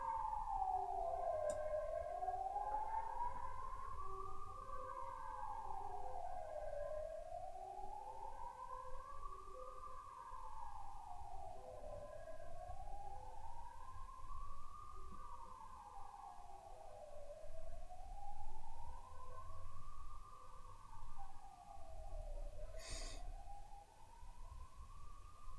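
A wailing emergency siren sweeps steadily up and down outdoors, rising and falling in repeated slow cycles over a low street rumble, continuous and moderately distant.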